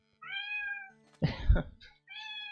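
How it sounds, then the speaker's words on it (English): A domestic cat indoors meows several times close by. The long tonal meows come first, then a harsher noisy burst, and a final meow ends the sequence. No one speaks. "we have a cat."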